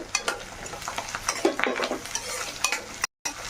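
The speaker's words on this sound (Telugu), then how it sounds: "క్యారెట్ చూడండి వేగింది, క్యారెట్ మంచిగా నూనెలో." Carrots with mint and coriander fry in oil for vegetable biryani, giving a close, crackly sizzle with frequent ladle scrapes and taps against the pot, then a brief dead gap near the end.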